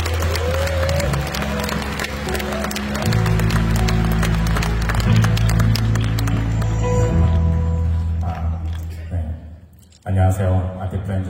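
An audience at a blockchain conference applauds to welcome a speaker, a dense wash of clapping that fades as a voice and background music carry on.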